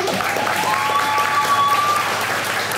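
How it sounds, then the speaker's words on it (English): Applause from an audience at a poetry community night after a performer's poem, a full, continuous burst of clapping throughout, loud and even, with a faint tonal whistle or voice riding above it briefly. "Shall we clap again for Maha?"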